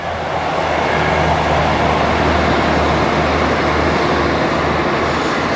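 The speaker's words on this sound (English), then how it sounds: "I'll let the train go past a minute." A train rumbles past close by on a coastal line near the sea, a loud, steady, continuous roar with a low hum lasting the whole stretch.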